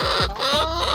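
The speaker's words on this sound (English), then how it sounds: "So my chicken babies are all doing well." Backyard chickens give a few quick, close clucks, short throaty calls in a burst, then a softer trailing note.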